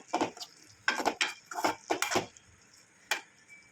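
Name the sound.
stirring tuna fish gravy in a pot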